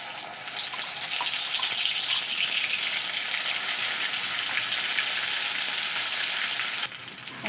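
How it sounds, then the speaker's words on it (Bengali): A spice paste fries in hot oil with a loud, continuous, close sizzle and crackle that runs steadily, then drops off abruptly just before the end. "মশলাটা এবার আমি তেলের মধ্যে দিয়ে দেব।"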